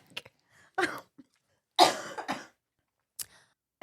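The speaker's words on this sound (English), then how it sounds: "before I had to pause for coughing fit number 1 of many" A fit of coughing in a quiet room: several rough, separate bursts with short silences between, the loudest in the middle, close to the microphone.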